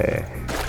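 A wild pig in the hunting game TheHunter: Call of the Wild gives a short, low, rough grunt, close and fairly loud, lasting under a second.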